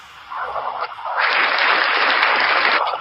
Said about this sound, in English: Ladies and gentlemen, round of applause for Mr. Thomas.